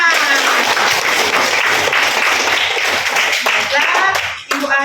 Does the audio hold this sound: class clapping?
yes